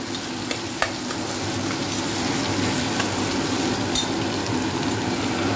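Tomato with ginger garlic paste fries in a pan, a dense continuous sizzle with scattered light clinks and scrapes of stirring, heard up close without talk.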